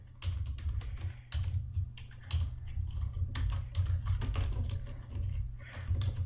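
Someone types steadily on a computer keyboard, close and clear, with quick irregular key clicks over a low constant hum and no speech.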